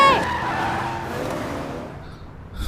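A car driven fast in an emergency screeches with squealing tires, loud at first and then fading into a rumbling engine, with faint talking near the end.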